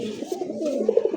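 Two male chocolate-faced pigeons cooing together up close, a soft throaty rolling coo with pulsing low notes that swell louder toward the end, no talk over it.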